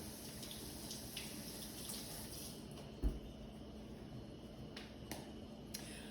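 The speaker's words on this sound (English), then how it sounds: "So let me wash my hands." Kitchen tap running while hands are washed during cooking, a soft continuous water hiss with faint splashes and a brief thump midway, heard quietly and without voices.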